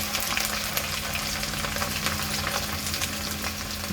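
Ginger frying in hot oil for prawn pickle makes a constant close crackling sizzle, even and unbroken, with no talking.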